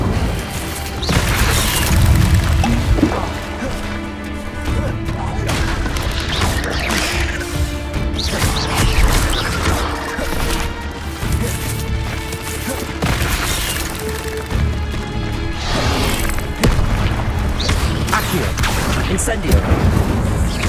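An Incendio fire spell is cast again and again in the Hogwarts Legacy video game, giving loud bursts and crashes over a dense mechanical game soundscape, with speech running throughout.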